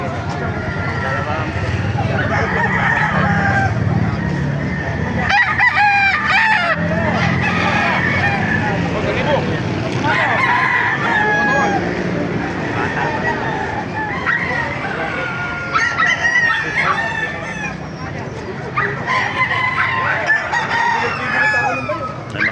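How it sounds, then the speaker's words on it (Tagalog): Several chickens and roosters crow and cluck in a busy chicken market in Baliuag, with steady crowd chatter and voices running underneath throughout. "Maraming manok ngayon dito sa Baliwag."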